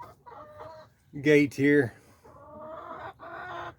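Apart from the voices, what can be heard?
hens squawking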